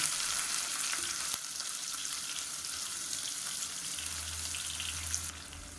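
Sliced onions sauté in hot oil with whole spices for mushroom biryani, a steady broadband sizzle with occasional stirring scrapes, close and continuous with a brief low hum toward the end.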